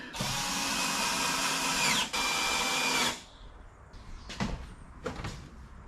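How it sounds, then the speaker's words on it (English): A power grinder runs loudly and steadily for about three seconds while smoothing sharp metal points on a camper trailer build, then stops, followed by a few clanks and knocks from handling the metal. "Go around and run the grinder on those pointy bits."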